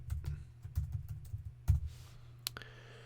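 Keys tapped on a computer keyboard while setting up a website, a quiet run of soft irregular clicks with a few sharper strokes over a low steady hum.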